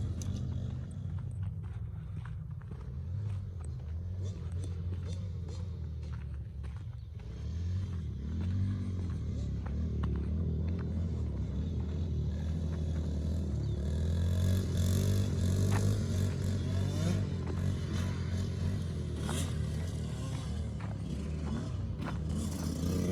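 A dirt bike engine warms up outdoors, idling low and steady with a rough mechanical rumble that rises slightly partway through, joined by faint footsteps and scraping nearby.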